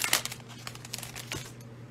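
Cellophane wrapping on 2021 Absolute football card packs crinkles in short, faint bursts of crackling, close up, with a brief louder rustle at the start and softer scattered crinkles after.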